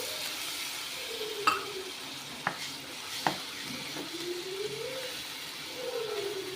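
Tomato gravy for a vegetarian eeral curry bubbles and simmers in a pan, with a soft continuous sizzle broken by a few sharp clinks of a spoon stirring against the metal.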